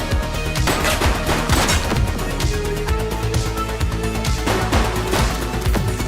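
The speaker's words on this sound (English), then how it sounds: "She's shooting!" Gunfire in the police video game The Precinct, loud and close, with rapid bursts of shots overlapping into a dense, continuous barrage.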